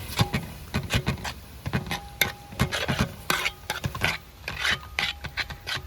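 A spoon scrapes and rubs through beetroot with salt and water in a pan, producing close, uneven strokes and clacks in a steady stirring rhythm with no talk.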